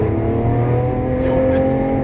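A 740 hp supercar accelerates on a racetrack, its engine a loud, steady, rising drone heard from close by through the whole short stretch.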